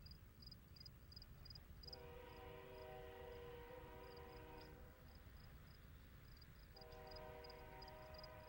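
Norfolk Southern westbound local L68 arrives at Hugo on the Newcastle District in the evening, its horn sounding two long harmonic blasts over a steady rumble of rolling wagons, with crickets chirping throughout.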